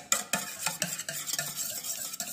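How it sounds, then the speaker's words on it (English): Eggs being whisked for a burger, with a rapid, uneven run of close clicking and scraping strokes against a bowl, fairly loud, with no talking. "Now whisking the egg."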